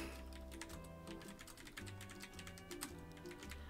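Rapid clicking of computer keyboard keys during a SpongeBob typing lesson game, a steady flurry of close, crisp keystrokes layered over cheerful background music.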